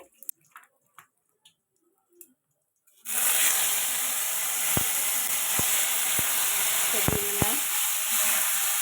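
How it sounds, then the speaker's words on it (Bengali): Bottle gourd pieces and stalks hit hot oil in a pan and burst into a loud, steady sizzle after about three seconds of near quiet, with a few sharp clicks of stirring against the pan. "ওটাকে বেশ করে নাড়াচাড়া করবো একটু ভাজা ভাজা হয়ে এলে"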